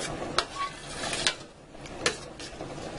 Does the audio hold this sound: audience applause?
no